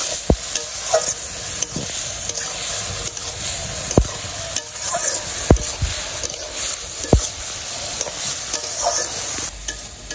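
Spoon scraping and stirring in a frying pan as spices are fried down in a home kitchen, with a steady sizzle under repeated sharp knocks and scrapes, close and fairly loud, no talk.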